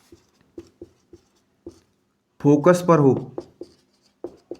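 Chalk or pen scratches out short strokes while a concave mirror diagram is drawn, a few soft taps and scrapes on either side of a brief spoken phrase.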